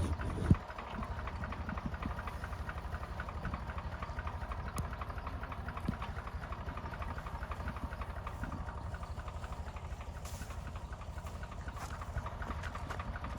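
A tractor engine idles and runs steadily in a field during a potato harvest after rain, giving a low, even chugging drone with a rapid regular pulse, heard fairly near. A few faint knocks come over it.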